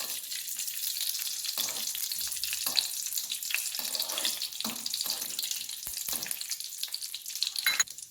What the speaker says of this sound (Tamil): இது கூட முந்திரி பருப்பு போட்டு கிளறி விட்டுக்கலாம்